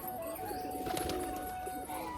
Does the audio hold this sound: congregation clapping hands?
no